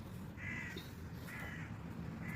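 Outdoors in Turkey, a crow gives three hoarse caws, close by and spaced about a second apart, over a steady background rumble.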